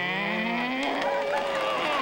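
A man singing a children's farm-animal song on a late-night talk show imitates a cow's moo with his voice, a sustained rising and falling bellow held close and loud for about two seconds with guitar accompaniment.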